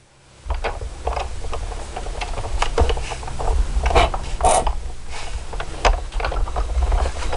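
Big Shot die-cutting machine cranked by hand with a stamped card and cutting pads, giving a steady grinding roll broken by repeated ticking clicks and knocks, fairly close and loud.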